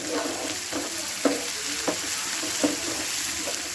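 Garden cress (halon) bhurji frying in a pan, a steady sizzle with soft rhythmic stirring scrapes roughly every half second, close and alone.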